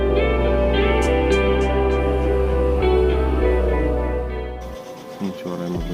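Synthetic engine sound effect from the Shell Racing app for a Nissan Formula E Gen 2 Bluetooth die-cast toy car: a steady, humming electric whine with a few rising revs, then a sudden drop and short fluttering shifts.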